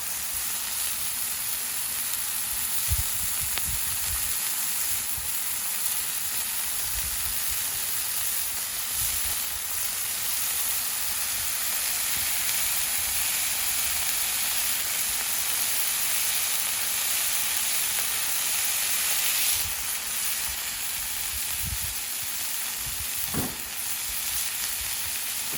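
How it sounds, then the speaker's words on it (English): Smash burgers sizzle and fry on a Blackstone flat-top griddle, a steady close hiss with crackling spatter and a few scraping clicks, continuing alone without talk. "And now we let it cook. So burgers are cooking."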